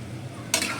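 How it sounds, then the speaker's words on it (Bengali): Naga chili pickle is stirred in a pan, giving a brief scrape and a soft sizzle that rise suddenly midway through a short moment of low kitchen hum. "নাড়াচাড়া দিয়ে দিই"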